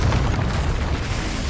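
A Confringo spell bursts in Hogwarts Legacy as a loud, dense, rumbling explosion that fills the short moment without pause.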